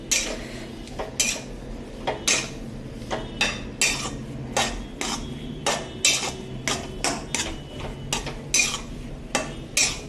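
Metal spoon repeatedly scraping and knocking a pan while mixing rava and makhana modak ingredients, a steady series of sharp clinks and scrapes about once a second, close and clear with no talk.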